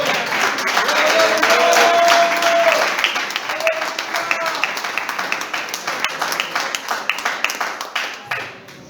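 A church congregation at an evening service breaks into loud applause that thins into scattered, individual claps before fading out, with some voices mixed in early on.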